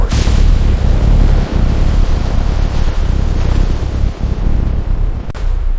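Sound effect of the 1986 reactor 4 explosions at Chernobyl: a loud, sustained, deep roaring rumble broken by a few heavy thuds, with no voices.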